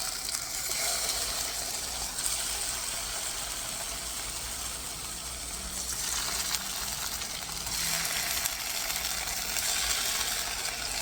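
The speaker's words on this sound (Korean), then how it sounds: "두부를 앞뒤로 노릇노릇하게 구워주시면 됩니다" Tofu pan-frying in a film of cooking oil over medium heat, a steady broad sizzle running throughout at moderate level with slight swells and no talk.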